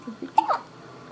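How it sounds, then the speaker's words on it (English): A baby gives a single small hiccup, soft and close, after a couple of faint babbling sounds, then quiet. "That's hiccups."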